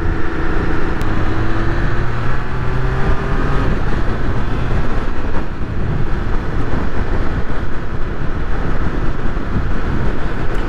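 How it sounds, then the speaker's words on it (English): Riding a Triumph Speed Triple 1200RR motorcycle, heavy wind buffeting roars continuously and loudly, mixed with engine drone and a rising then falling tonal whine, with no speech. "Bit of wind coming through."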